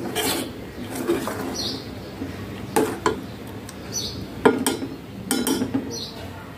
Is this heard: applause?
no